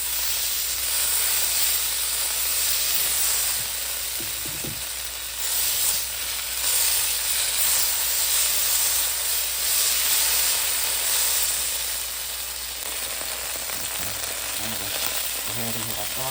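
Butter sizzles in a hot pan ahead of cooking teriyaki garlic fish, a loud continuous hiss and crackle that swells and eases slightly over time with no talk.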